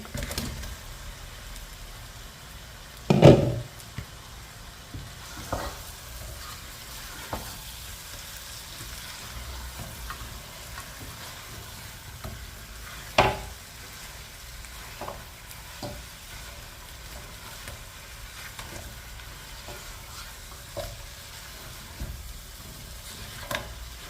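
Chicken for a roast frys in hot spiced oil with a low, steady sizzle, broken by occasional sharp clatters of stirring utensil against the pan.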